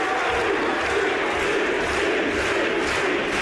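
A crowd of about a thousand at a women's wrestling show in York Hall chants continuously, a dense, loud roar of massed voices filling the hall without a break.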